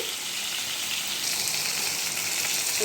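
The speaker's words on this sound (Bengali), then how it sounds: "তেলে দুটো দুটো করে ভেজে নিই মাছগুলোকে" Tangra fish fry in hot oil two at a time, giving a continuous, close crackling sizzle that stays steady throughout with no talk.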